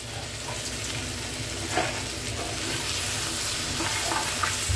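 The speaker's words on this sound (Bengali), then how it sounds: "এবার ভালো ভালো করে ফ্রাই হচ্ছে, জল ছেড়ে গেছে সবজি থেকে" Vegetables fry steadily in a pan after releasing their water, a continuous close sizzle with occasional stirring scrapes and no talk.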